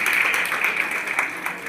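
Applause from an audience at a college function, cheering for the female students; a dense, steady wash of many hands clapping throughout, fairly loud and continuous with no voices on top.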